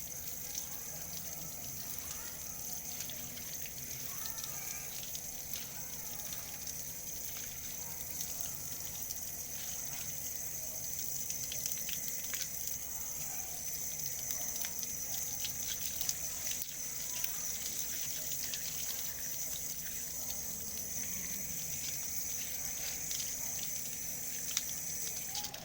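Tap water runs steadily while bleach is rinsed off film, a continuous, even rushing flow lasting throughout with no pauses.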